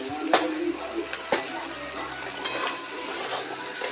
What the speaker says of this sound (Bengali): তেল দেওয়ার পর ক্যাপসিকাম আর পেঁয়াজ ভাজতে নেওয়া হচ্ছে